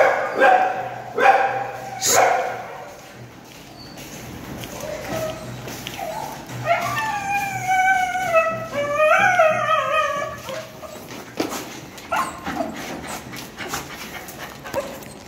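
Pet dogs at a home greeting their owners give several sharp barks, then a run of high, drawn-out whimpers and whines, with people talking nearby.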